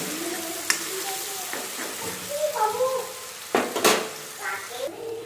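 Garlic and onion paste frying in oil with asafoetida, a steady sizzle with occasional stirring scrapes and pan clinks, close by, with faint background voices.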